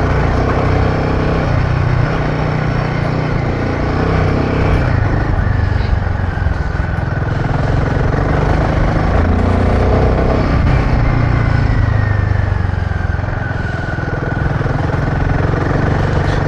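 A Royal Enfield Himalayan 450 motorcycle engine rumbles steadily in low gear while riding through mud, a loud, close drone with slight revving throughout.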